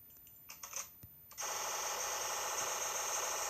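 A tripod-mounted World War II heavy machine gun in a video game gives a few mechanical clicks, then opens into a loud, sustained stream of rapid fire that holds steady to the end.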